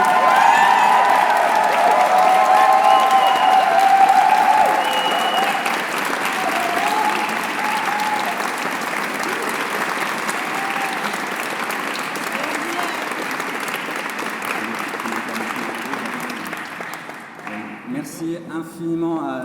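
An audience applauds the choir directors after a chorale concert in the Notre-Dame de la Nativité de Bercy church, with loud sustained clapping that slowly thins toward the end, while a voice speaks over the start.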